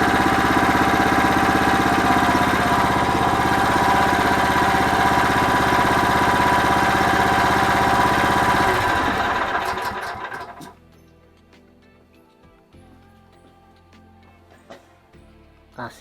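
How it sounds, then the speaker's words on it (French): A Phoenix 400 mini excavator's engine idles loudly and steadily up close, a dense mechanical drone that holds for about nine seconds, then winds down and stops, leaving quiet with a few small clicks. "Donc au ralenti, il n'y a pas besoin de faire gueuler le moteur."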